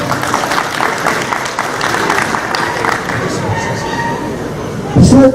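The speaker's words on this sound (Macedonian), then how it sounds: "И за него еден аплауз" Crowd applause for the organizer at the opening of an exhibition of Macedonian Karaman sheep, a steady wash of clapping from a gathered audience that ends in a louder thump.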